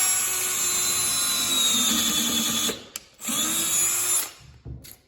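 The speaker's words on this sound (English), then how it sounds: "then you drill out in the same spot where the old rod was in" A power drill with a bit bores out an old stair picket rod hole, a loud whining run broken by two short pauses and a brief final burst.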